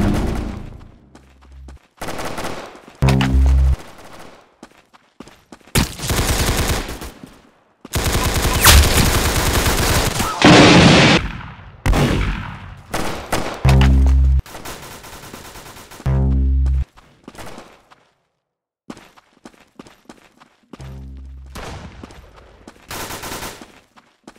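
Gunfire in the video game Arsenal: loud, close bursts of rapid shots and single cracks, with clusters of firing and short pauses between them, alone without talk.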